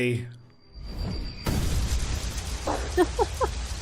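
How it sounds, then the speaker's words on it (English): A fiery explosion sound effect booms behind a tabletop role-playing scene, a sudden loud onset followed by sustained rumbling roar, with a few brief tonal bursts near the end. "a giant explosion bursts behind you in fire and flame"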